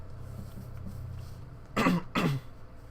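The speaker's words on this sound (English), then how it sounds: "I'm sorry, I'm coughing so much." Two sharp, loud coughs from one person follow each other quickly over a quiet background hum.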